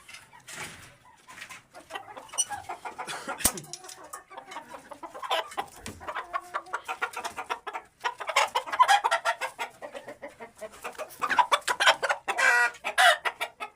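Several Aseel chickens cluck and squawk close by in bursts, a lively, continuous barnyard chatter with no talking.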